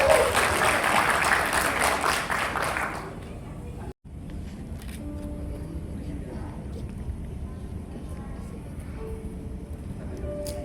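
Applause from guests at a wedding blessing ceremony, a dense broadband clapping burst for the first three seconds that stops abruptly, followed by quiet room tone and faint murmuring.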